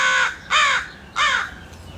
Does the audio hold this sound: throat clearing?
no